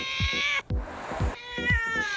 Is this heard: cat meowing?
yes